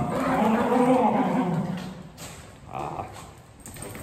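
Three dogs, one of them a wiener dog, bark and whimper close by in a house under renovation in Italy, loud yelps and whines at first that fade into quieter bursts toward the end.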